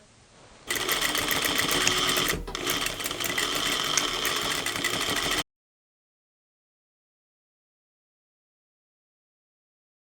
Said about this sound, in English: So next I'm going to sew this to this.